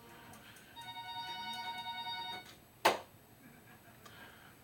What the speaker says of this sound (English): sorry the phone rang there a minute